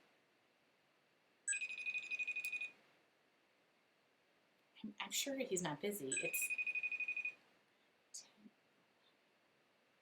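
A phone rings out over a speakerphone call on a crafting table, two bursts of electronic ringing tones a few seconds apart, with people talking quietly in between.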